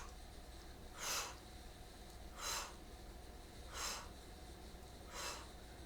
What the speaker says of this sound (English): I'm breathing out through my mouth and through the nose.